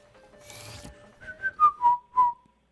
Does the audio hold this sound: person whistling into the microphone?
yes